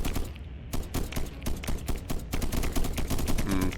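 Rapid bursts of turret gunfire in a strategy video game attack, dense volleys of sharp cracks repeating loudly and steadily throughout with little pause.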